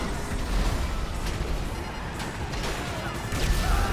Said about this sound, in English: Oh, I hit the chopper